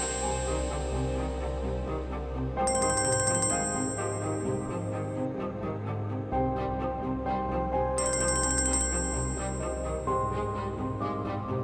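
A phone rings in two bursts of bright electronic tone, one after the other, over a steady low background score in a domestic drama scene.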